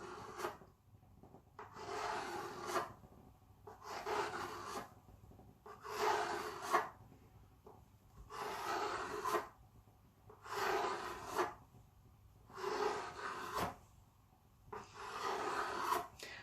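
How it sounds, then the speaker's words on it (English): Rolled mathri dough being cut into long strips, a rhythmic series of soft scraping strokes, about eight evenly spaced passes, close and fairly quiet. "And now I'll start cutting it into long strips."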